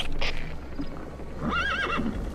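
A horse in the video game Metal Gear Solid V: The Phantom Pain whinnies with a wavering high-pitched neigh over a steady low background hum.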